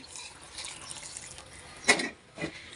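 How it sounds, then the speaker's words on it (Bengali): Water is poured slowly into a mashed potato and eggplant dish for a traditional North Bengal recipe, a soft trickling wash with two brief louder splashes near the end. "এখন আস্তে আস্তে করে আমি পানিগুলো দিয়ে দিচ্ছি।"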